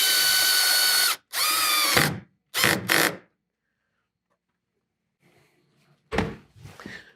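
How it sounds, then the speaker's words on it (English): A Makita power drill whirs in several bursts while driving screws into well nuts on a Hobie Mirage Passport 12.0 kayak, a long run followed by shorter pulses, close and loud, with a clunk of handling near the end. "clutch down to a 4 on this Makita drill"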